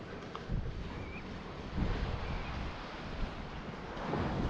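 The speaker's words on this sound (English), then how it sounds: "Some of these waves, the sound of them crashing, it's just a madness" Winter waves crash onto a rocky Scottish shore beside abandoned WW2 defenses, a steady broadband roar of surf with repeated surges, buffeted by wind noise on the microphone and no voices.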